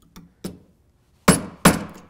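A nylon insert hammer taps a metal cuff bracelet resting on a metal stake: two light strikes followed by two louder, sharper blows, close and isolated with quiet gaps between.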